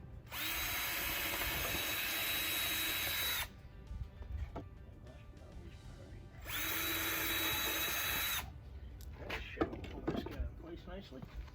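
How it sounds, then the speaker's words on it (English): A power drill boring holes into pallet wood, two sustained whining bursts of about three seconds each separated by a pause with quieter handling noise, close and loud. "we drill a couple of holes"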